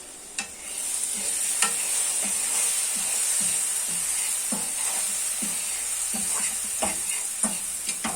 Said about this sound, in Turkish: Menemeni son bir kez karıştırıyorum.